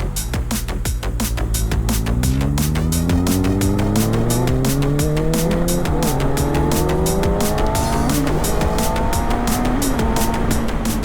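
Motorcycle being ridden and upshifted with an auto blipper, the engine note sweeping upward repeatedly in smooth successive gear changes, loud and steady under constant wind and road noise with no talking.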